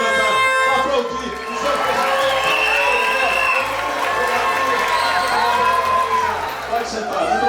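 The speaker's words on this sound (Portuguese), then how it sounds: "que você se levantar" Graduation ceremony audience for a law course rising to applaud, loud crowd cheering, whooping and clapping with shouted voices throughout, dense and close.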